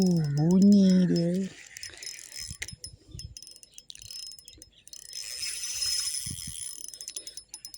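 Ratchet of a small fishing reel on a pond, giving faint, irregular clicking bursts after someone briefly speaks, with soft outdoor background noise.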